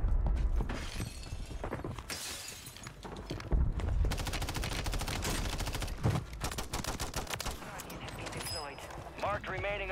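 Gunfire from a close-quarters squad fight on Rebirth Island in Call of Duty Warzone, with rapid automatic bursts, impacts and mechanical clatter running throughout under excited talking.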